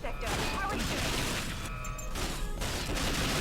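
Rapid gunfire and explosive bursts from the video game James Bond 007: Nightfire, including pistol shots, fill the clip as a dense, continuous barrage with a voice talking over it.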